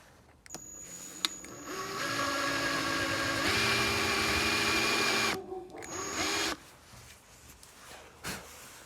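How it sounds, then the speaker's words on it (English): A power drill fitted with a 7/32 bit bores into a shotgun buttstock. The motor whines steadily for several seconds, close and loud, then spins down and gives a brief second burst before stopping. "7/32 drill bit installed on your drill, you're going to drill until it reaches that tape mark"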